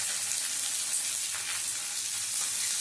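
Chopped onion sizzles in hot mustard oil with dried red chilli, a steady close hiss of frying with no voices.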